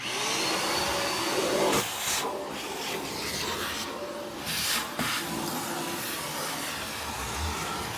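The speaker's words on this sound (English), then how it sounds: "I think we're gonna just vacuum the whole floor up." A vacuum cleaner runs continuously close up on the floor of a 1955–1957 Chevy wagon, a steady whooshing roar broken by scraping rubs as the nozzle moves.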